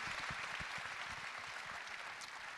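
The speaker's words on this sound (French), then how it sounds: "on peut vous applaudir" Applause from the audience at a local agglomeration round-table, steady moderate clapping with distinct close hand claps over a soft crowd wash, heard at a fairly low overall level.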